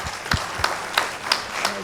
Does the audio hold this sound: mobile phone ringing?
no